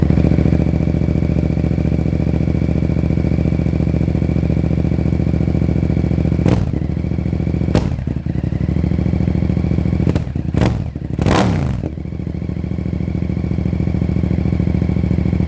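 A Yamaha FZ-07 motorcycle with a Two Brothers slip-on exhaust idles with a deep, throaty burble, loud and close, with a few short revs and clattering blips partway through.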